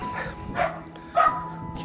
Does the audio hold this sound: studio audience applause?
no